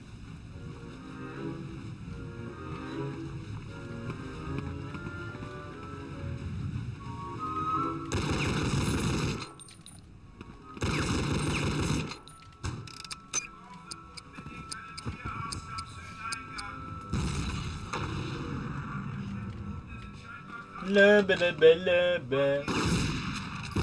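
Gunfire from a gun in a Simpsons cartoon, several loud bursts of shots, some in rapid volleys, between stretches of speech and background cartoon sound.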